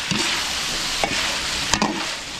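Vegetables such as young corn, sayote, cauliflower and carrots stir-frying for chop suey with chicken breast and liver, a steady loud sizzle broken by a few sharp spatula scrapes.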